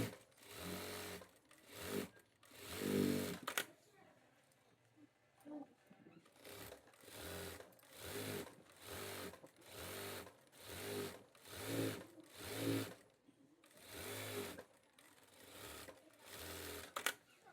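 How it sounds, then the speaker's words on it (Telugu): A sewing machine stitches a shirt button placket in short repeated bursts of rapid mechanical whirring, each run separated by brief quiet pauses, fairly faint and close. "ఇది కాజా పట్టి, ఇది రెండు వైపులా కూడా కుట్టు వేసుకోవాలి."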